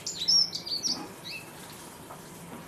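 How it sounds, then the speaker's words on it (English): Pigeons flap their wings in a garden in short bursts of fluttering near the start, with faint bird chirps, then the sound fades to quiet outdoor background. "Pigeons are going a bit mad."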